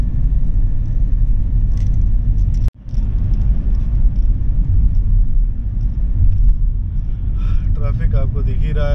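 Heavy, slow-moving road traffic on a highway under construction, with only one lane open, rumbles steadily as heard from inside a car. A short thump breaks the noise midway, and a voice speaks near the end.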